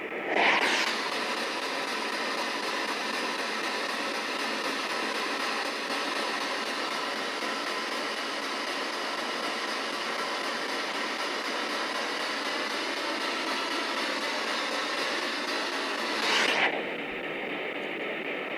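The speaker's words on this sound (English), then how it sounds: "Come through on the white noise." A steady hiss of white noise from a spirit box, like radio static, runs loud and unbroken for most of the clip before cutting off abruptly near the end, during a paranormal investigation at Hougham Battery.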